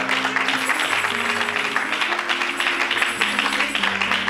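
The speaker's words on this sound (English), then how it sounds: "Clap your hands for them, you all." Church congregation clapping their hands together during a worship service, a steady wash of applause with a sustained organ or keyboard tone running underneath.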